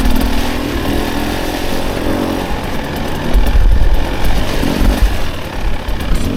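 A 2024 Husqvarna TE 300 dirt bike engine lugging at low revs on a trail, a close, loud, uneven chugging rumble with throttle surges in the second half, no talk over it.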